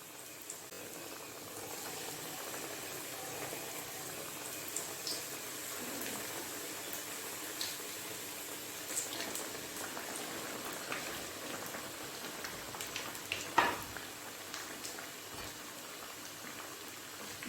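Potato box patties fry in hot oil over low heat, a faint, even sizzle and crackle with scattered soft pops running throughout, no voices.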